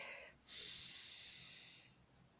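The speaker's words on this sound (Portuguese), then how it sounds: "Infle a sua barriga e depois você solta o ar pela boca." A single long exhale through the mouth during deep diaphragmatic breathing, a soft airy hiss lasting about a second and a half after a brief intake, close and alone.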